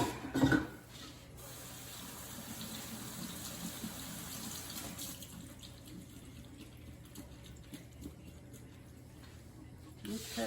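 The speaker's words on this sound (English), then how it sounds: "Okay, so our potatoes are all nice and washed." Tap water runs steadily over potatoes being washed in a kitchen sink, a continuous gushing hiss that fills about ten seconds, with a brief clatter near the start.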